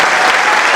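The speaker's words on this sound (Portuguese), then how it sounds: "pedir também uma salva de palmas para a comunidade aqui" An audience bursts into steady, loud applause, a dense wash of clapping heard up close with no pause.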